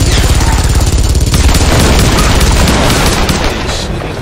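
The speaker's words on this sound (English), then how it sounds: "He's shooting like crazy. I can't tell where those shots are coming from." Heavy, loud gunfire in Tomb Raider multiplayer on Xbox 360, a dense rapid barrage of booming shots and rattling bursts that fills the clip before easing slightly at the end.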